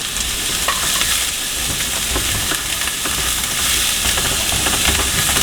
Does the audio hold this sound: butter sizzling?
yes